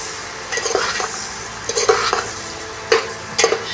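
Garlic chili paste is stirred into a cluster bean curry in a pan: a soft simmering hiss carries repeated scraping strokes of a spoon against metal, coming in uneven bursts.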